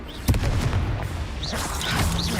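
A Confringo fiery blast spell cast in Hogwarts Legacy, a sharp burst near the start followed by a dense, continuous roar of combat effects with no talking.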